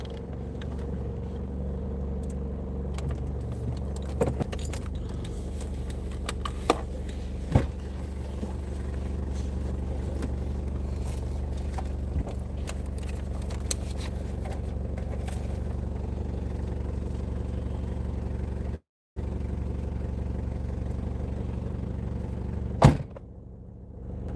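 A car's engine rumbles low and steady as it pulls in and parks, with scattered mechanical clicks and creaks, a brief dropout near the end, then a sharp knock.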